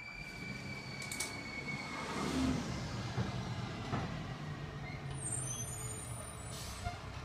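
A garbage truck pulls in at night with a steady, rumbling diesel drone and a sharp hiss of air brakes near the end. It sounds fairly close and carries on alone with no talking.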